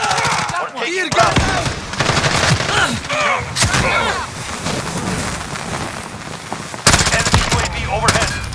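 Sustained automatic gunfire in Call of Duty: Modern Warfare, loud and near, with continuous rattling bursts and a sharp burst near the end, soldiers' voices calling out underneath.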